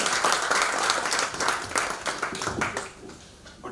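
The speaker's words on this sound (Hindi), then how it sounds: "खूब सारी तालियां" An audience at a poetry and shayari evening breaks into loud, sustained applause, a dense wash of many hands clapping together that holds steady, then thins slightly toward the end.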